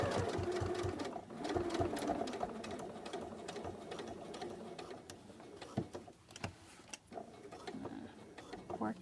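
A sewing machine stitches a curved collar stand seam up close, running in a rapid, even mechanical chatter with short pauses and restarts, fairly quiet and with no talking over it.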